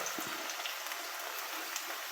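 Garlic and shallots sauté in a pan, giving a steady, soft, near sizzle that stays even throughout with no talk.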